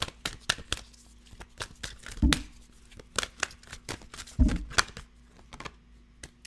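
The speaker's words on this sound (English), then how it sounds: "I'm going to keep shuffling because I don't know which one it was" Tarot cards being shuffled by hand, a fast run of crisp papery riffles and snaps with a couple of louder, fuller bursts, close up and with no talking.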